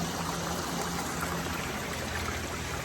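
A clear mountain stream beside a hiking trail rushes steadily and close by, a constant, dense wash of flowing water with no voices over it.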